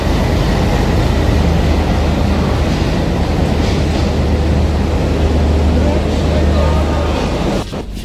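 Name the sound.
train arriving at the platform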